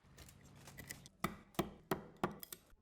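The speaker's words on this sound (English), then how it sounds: "She whittles the bamboo stalks with her special clip knife to make them into pointed needles." A clip knife whittles bamboo stalks into pointed needles, giving a faint scraping start, then four sharp, evenly spaced cutting strokes and a few lighter ticks, close and with no talk.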